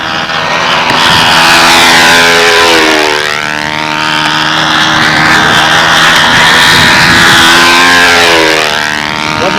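A P-51 Mustang stunt model airplane with a 4-stroke engine takes off at a windy grass-circle stunt contest, its loud buzzing drone rising and falling in pitch as it sweeps around and passes close twice.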